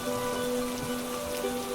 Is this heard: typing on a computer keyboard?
no